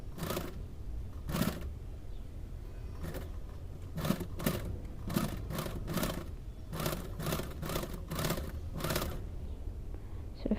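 Sewing machine running a simple straight stitch along a zipper pouch seam, heard as a series of short, close bursts of rapid stitching separated by brief pauses, with no talking.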